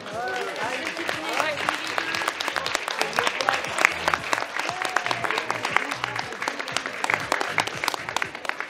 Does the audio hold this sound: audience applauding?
yes